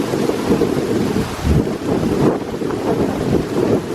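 Strong, steady wind roars across the microphone on a snowy, bitterly cold day near waterfalls, a dense continuous rush with gusty swells and no voices.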